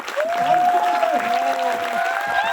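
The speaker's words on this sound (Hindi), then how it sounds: "ताली रुकनी नहीं चाहिए यार" Audience applause at a live event, a continuous round of clapping over the whole span with tonal sounds ringing above it.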